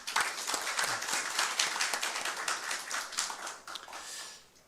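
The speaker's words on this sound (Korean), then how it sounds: "이분들께 같이 박수 한번 부탁드립니다." Audience applause at a Seoul policy forum on local cable broadcasting; a steady patter of many hands clapping holds fairly evenly at moderate volume, then fades toward the end.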